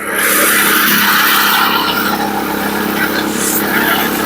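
A Remet RS-80 wood chipper's engine runs at a loud, steady high idle close to the microphone, a continuous even drone with a faint rise and fall and a quiet voice under it.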